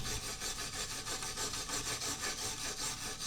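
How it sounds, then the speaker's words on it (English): Steady rasping scrub of a wire brush over bare metal, cleaning it ahead of welding, continuous and close with a rhythmic back-and-forth pulse and no talking. "you're going to either take your wire brush like this"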